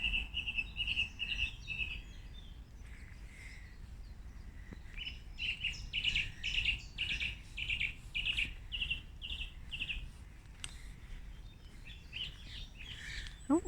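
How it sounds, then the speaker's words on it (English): Birds chirp in repeated bright bursts nearby, their song rising and falling over a soft outdoor background hum. "much closer are the sound of the birds"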